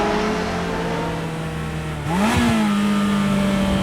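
A Ferrari F355 engine idles with a smooth, steady hum, then blips sharply into a rising rev and settles at a higher, sustained pitch. It is close and loud, with no voices.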